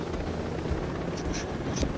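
Helicopter rotor drone from Ghost Recon Breakpoint, a steady low whirring wash with wind-like rumble, continuous and moderately loud with no talk over it.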